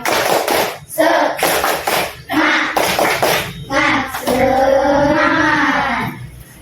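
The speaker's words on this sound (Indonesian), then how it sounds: "Agar menumbuhkan rasa semangat kita tepuk semangat ya" A group of schoolchildren or teachers doing a rhythmic 'tepuk semangat' cheer clap in a classroom, bursts of patterned claps alternating with chanted voices, close and loud.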